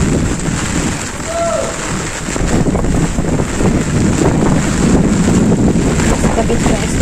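Strong typhoon wind roars steadily across open rice fields in Bicol during Typhoon Amang, a dense rushing gust buffeting the microphone and swelling louder partway through, with no talk over it.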